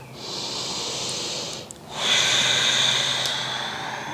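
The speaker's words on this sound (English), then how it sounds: "Let's take a nice full breath." A deep, full breath during a vinyasa yoga flow: a long airy inhale, a brief pause, then a slightly louder, breathy exhale, close and alone without talk.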